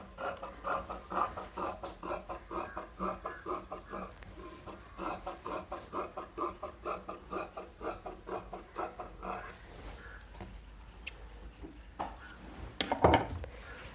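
Scissors cut a 1-inch cross piece of fabric for a thin blouse rope, giving steady rhythmic rasping snips that repeat close by, then thin out into lighter rustling and one sharper handling noise near the end.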